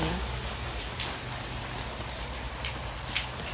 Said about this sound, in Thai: เพื่อนเห็นเม็ด ฝนล่วงหล่นกันไหมคะ